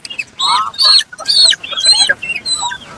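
Several roosters cluck in quick, loud bursts at a rooster stall in a busy Monday livestock market in Kunnathur, Tirupur, with short pauses between calls and no talk over them.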